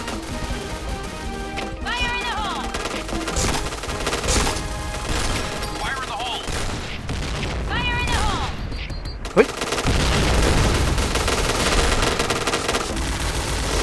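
UMP45 submachine gun fire in the Point Blank shooter game, sounding as repeated rapid bursts and a sharp shot near the nine-second mark. Constant game ambience and chatter play over the bursts.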